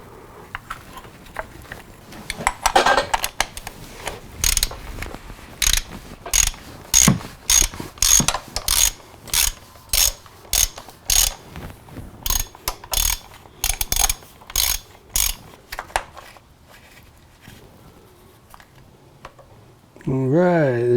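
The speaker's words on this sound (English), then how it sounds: "We will get our oil filter wrench." An oil filter wrench works on the oil filter of a Yamaha R6 motorcycle, giving a long run of rapid ratcheting clicks in repeated bursts. The clicks are close and fairly loud, and a brief voice comes in at the end.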